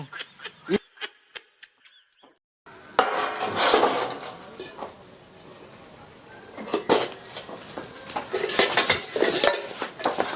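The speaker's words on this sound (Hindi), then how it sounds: "1 घंटा से ही बर्तन रखत हिया तू। जा जल्दी बर्तन माज।" Metal dishes, pots and cutlery clatter and scrape as they are scrubbed and washed, with sharp clinks at first, then busier rattling and rubbing that comes and goes, close by.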